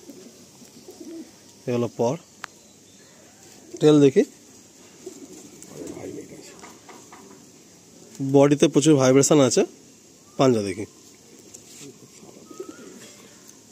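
A Madrasi pigeon coos in a few short bursts while it is held and handled in a loft. Someone talks close by throughout, and the coos come through between his words.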